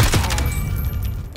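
Flashbang grenade detonating in Call of Duty gameplay, a sharp burst at the start followed by a dense, loud ringing wash of noise with a faint high tone that lingers across the whole moment.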